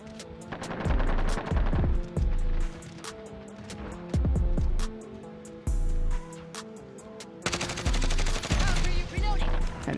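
Automatic rifle gunfire in Warzone with a Grau 5.56 loadout, loud bursts of rapid shots repeating across the whole stretch with short pauses between volleys, and faint voices talking underneath.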